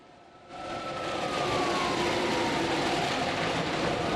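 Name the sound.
truck undercarriage dragging along freeway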